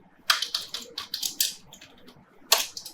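Rapid bursts of typing on a computer keyboard while entering Java code, close and clear, with a brief pause before a final cluster of keystrokes.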